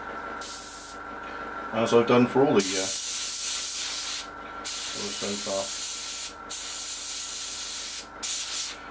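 An airbrush hisses in short bursts spraying paint on a Seafire XV scale model, separated by pauses, with someone speaking quietly in between.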